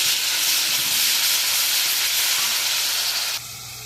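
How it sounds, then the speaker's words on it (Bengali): Onion and garlic paste sizzle in hot oil in a pan for a vegetable stir-fry, a steady, loud broadband hiss that drops in level near the end, with no talking. "এখানে একটু পেঁয়াজ দিলাম, একটু রসুন বাটা দিচ্ছি।"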